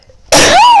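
A single loud, close sneeze bursts out abruptly after a moment of near silence, a sharp explosive onset trailing into a voiced, falling-then-rising exhale.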